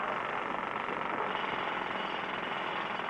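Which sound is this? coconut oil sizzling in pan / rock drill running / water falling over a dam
rock drill running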